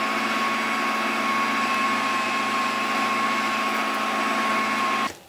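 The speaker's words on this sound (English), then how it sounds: "I'm going to grind that again." A meat grinder steadily grinds jalapeno cheddar sausage meat, a loud continuous motor whir with a constant tone that runs without pause for about five seconds, then cuts off abruptly at the end.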